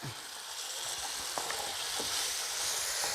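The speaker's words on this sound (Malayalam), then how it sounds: "ഈ മുളക് ഇങ്ങനെ ഇങ്ങോട്ട് ഒഴിച്ചു കൊടുക്കുക" Kashmiri chilli paste hitting hot oil in a pan, giving a steady close hiss of sizzling frying with a few faint clicks, no voices.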